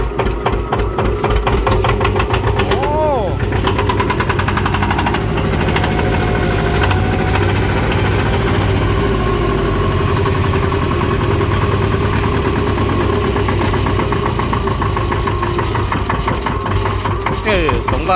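An old Kubota two-cylinder engine idles loudly and close by with a steady, throbbing, knocking rhythm, and people talk over it throughout.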